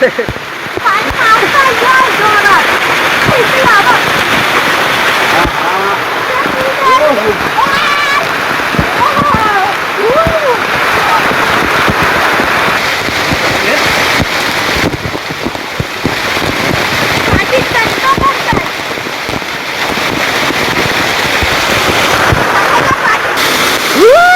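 Water pours continuously over a mountain waterfall, a broad, steady roar with wind buffeting the mic. Children and adults talk and shout excitedly over the rushing sound throughout.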